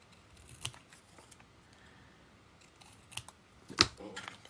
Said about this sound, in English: So just cut it on either side